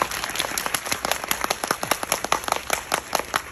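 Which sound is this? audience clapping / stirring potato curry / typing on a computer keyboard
audience clapping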